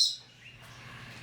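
A pet parrot named Jelly Bean in a small bird room lets out a brief, faint high chirp, followed by soft room noise.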